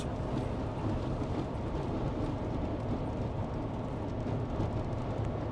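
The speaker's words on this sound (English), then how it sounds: "So the rain at least is less." Light rain and road noise inside a vehicle driving on a French motorway near Lyon form a steady, even roar of tyres and wind with no voices.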